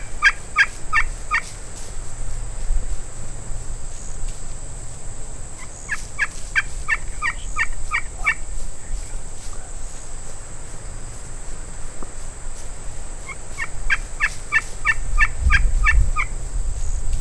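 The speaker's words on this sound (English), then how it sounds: "Brad spots the gobbler to our left as the hen runs past." Wild turkey gobbler gobbling in Texas Hill Country brush, three separate bursts of rapid rattling calls spaced several seconds apart, moderately distant over steady insect and cricket hum outdoors.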